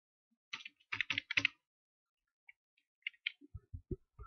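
Keys on a computer keyboard clatter in a quick burst of taps, pause, then resume with a few more scattered clicks, quiet and close with no talk.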